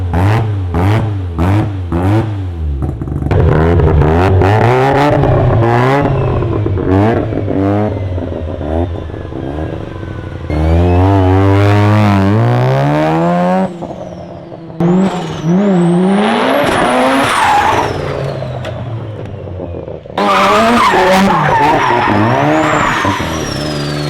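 A fully built Mazda FC RX7 with a 13B rotary engine revs loudly and close by in several repeated bursts, its pitch climbing and falling sharply between brief drops to idle.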